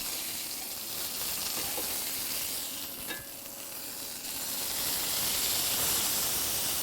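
A burger patty sears on a hot griddle, giving off a loud, steady, broadband sizzle that swells near the end, with a brief scrape or press partway through and no voices.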